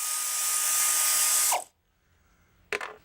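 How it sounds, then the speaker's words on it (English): Powered socket tool running on transmission pan bolts of a 1962 Thunderbird, a loud high whir for about a second and a half, then silence and a short second burst, close and with no voices. "I use a socket wrench to remove the transmission pan bolts."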